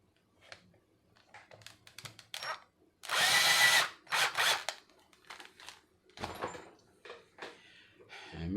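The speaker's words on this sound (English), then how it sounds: "be careful with this drill bit." Short bursts of a power drill whirring, with one longer run in the middle, among scattered clicks and handling noises nearby.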